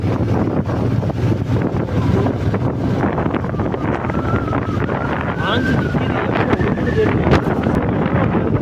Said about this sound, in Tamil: காத்து தம்பி.